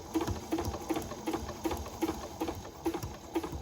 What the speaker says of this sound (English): I'm going to stitch right alongside the fold using this regular foot here